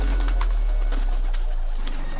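A dove-like bird coos softly a few times over a steady background hiss, with no voices heard.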